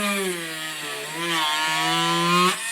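A power drill boring a small pilot hole into laminated glass, a steady close whining drone with a harmonic pitch that dips and rises slightly under load, running continuously without any talk.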